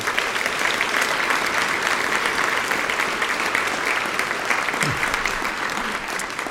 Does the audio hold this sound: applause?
yes